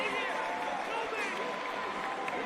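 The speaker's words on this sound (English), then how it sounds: "Crowd goes nuts." A lacrosse crowd cheering after a goal in a Waterdogs vs Redwoods game, a steady roar of many voices at moderate level with no single voice standing out.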